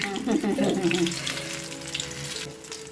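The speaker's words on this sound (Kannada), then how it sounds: "ಎಣ್ಣೆ ಕಾಯ್ದಾಗ ಆವಾಗ ನಾವು ಕರಿಬೇಕಾದ್ರೆ ನಮ್ಮ ಬಜ್ಜಿನು ಗುಂಡು ಗುಂಡಕ್ಕಾಗಿ ಆಗುತ್ತಂತೆ" Eggplant bhajji fritters frying in hot oil on a medium flame, a busy close sizzle with bubbling crackle that stays steady throughout, with a person talking over the start.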